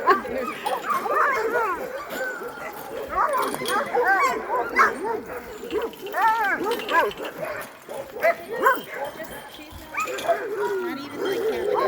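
Sled dogs at Sundog Kennels in Alaska bark, yip and whimper constantly in a dense overlapping chorus, many animals close by and loud throughout.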